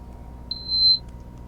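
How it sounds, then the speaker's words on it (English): A single high electronic alarm beep, a clean steady tone lasting about half a second, loud and close over a faint low background hum. "Sorry for the beeping."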